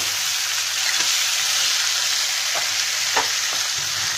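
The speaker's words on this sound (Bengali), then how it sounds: "এই গরম মশলাটাকে মিশিয়ে নেব" Steady frying sizzle from a fish head curry as garam masala powder is stirred in, with a few soft scrapes of the spoon against the pan; no voices.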